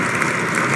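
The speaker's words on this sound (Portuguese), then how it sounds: "e aplaudir novamente suas palavras motivacionais" Crowd applauding at a presidential inauguration speech, a brief steady wash of clapping with no voices over it.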